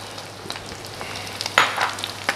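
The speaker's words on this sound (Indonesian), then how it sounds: "Oke, ini kita tumis dulu kurang lebih 1-2 menit ya." Vegetables and shimeji mushrooms sizzle in a pan with a low background hiss. Several sharp stirring clatters and bursts of frying come through close up, and no one speaks.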